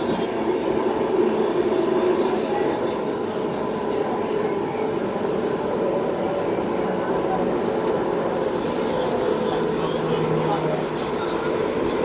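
A train pulling into Parassala railway station on the Thiruvananthapuram–Nagercoil line, heard from on board: a loud, steady rumble of wheels on track with thin high squeals from the wheels running throughout.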